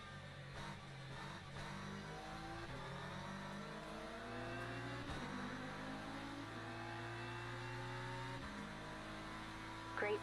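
Race car engine in the sim racing game Le Mans Ultimate, repeatedly revving up through the gears with rising tones and abrupt shift drops, steady and fairly quiet, with no talk.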